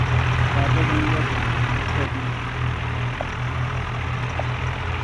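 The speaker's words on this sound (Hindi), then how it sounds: "हमने 4 ट्रैक्टर पर टोचन करवाई" Four tractors, two Swaraj and two John Deere, chained together for a tochan tug of war, their engines droning in a loud, steady, low rumble that holds throughout with little change.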